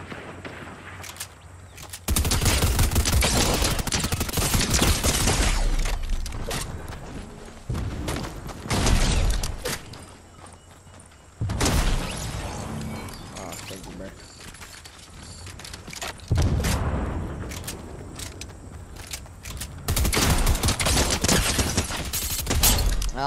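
Gunfire from players shooting bots in Fortnite comes in long rapid bursts separated by brief lulls, with mechanical clatter and players talking throughout.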